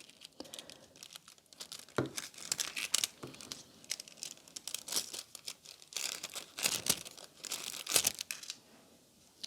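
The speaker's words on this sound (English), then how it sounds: "I will pick up the clean part of the transfer foil and just touch up" Crinkling and rubbing of rose gold transfer foil being pressed onto an acrylic-painted flower nail, a series of close, brisk rustling bursts with short pauses between them, no talking.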